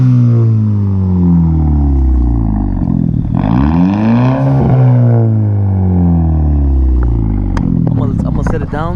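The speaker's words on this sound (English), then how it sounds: "I'll give you guys some revs." A 2018 Hyundai Elantra Sport with a straight-pipe exhaust revs up and settles in loud, close bursts, its engine note rising and falling over about nine seconds.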